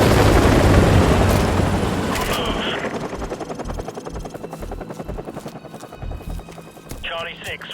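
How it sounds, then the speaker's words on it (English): Enemy helicopters in a Call of Duty: Modern Warfare Remastered battle, a loud rotor roar that fades gradually amid gunfire, thuds and game radio chatter. "Enemy helicopters."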